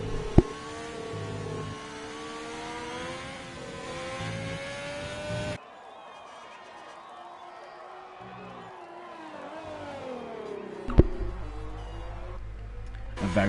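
An Alfa Romeo race car engine in a Formula racing video game at Spa, a steady high revving drone that rises and falls through the gears, with a commentator talking over it.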